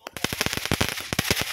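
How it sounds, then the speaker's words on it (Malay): Rapid string of sharp cracking bangs from fireworks and firecrackers at a Hari Raya Aidilfitri open house, loud and close, dozens of pops in quick irregular bursts. "Sambil tu kita dihiburkan dengan bunga api dan mercun."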